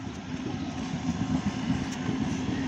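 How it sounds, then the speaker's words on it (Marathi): A local train arriving from Vasai rumbles past in a steady, fairly faint low drone with a faint rising hiss, heard alone without voices. "वसईहून आलेले लोकल आहे"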